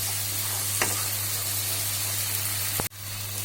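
Spice masala for doi chicken curry fries in a pan with a dense, constant sizzle, marked by a couple of brief stirring scrapes before the sound drops away abruptly near the end.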